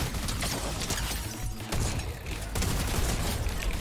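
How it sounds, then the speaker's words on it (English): Rapid bursts from a drum gun in the Fortnite video game, a loud, continuous rattling fusillade with brief gaps between strings of shots, close and with no voices. "Man, the drum gun is just so much better to use."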